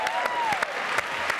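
A studio audience at a French television variety show claps to welcome Charlie Nestor, a short burst of dense, steady applause with a faint musical tone running under it.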